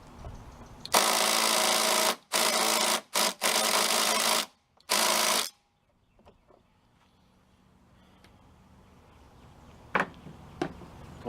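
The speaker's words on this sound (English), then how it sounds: "Of course I got to break them loose with a socket wrench." Socket wrench breaking loose half-inch rear wheel bolts on a self-propelled Toro lawn mower with a Tecumseh 6.5 engine: several loud, close bursts of harsh grinding ratcheting over about four seconds, then near quiet with a couple of faint knocks.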